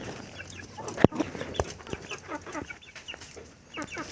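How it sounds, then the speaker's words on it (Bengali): Chickens, including game-fowl breeds such as aseel, on a small farm cluck and peck nearby, with soft irregular clucks and a couple of sharp scratches, fairly quiet and with no one speaking. "ছোট্ট ফার্মে কি কি মুরগি আছে আমি দেখাচ্ছি।"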